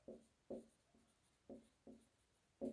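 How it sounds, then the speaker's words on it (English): A pen writes a definition by hand, faint close scratching strokes in short separate bursts, about six of them at an uneven rhythm with quiet gaps between. "Let me write the definition of it."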